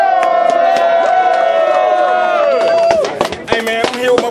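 A crowd at a Body Bag Battles rap battle event roars and shouts loudly and continuously, with raised voices rising over the din before it breaks into scattered yells near the end.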